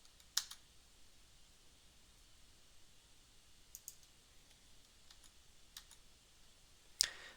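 A few sparse, faint clicks of a computer keyboard, including an Enter press, come in isolated taps against a near-silent background, the sharpest one near the end.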